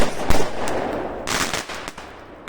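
Fireworks rockets at 2025 celebrations go off close by in a rapid run of sharp cracks and booming bursts, with crackling in between.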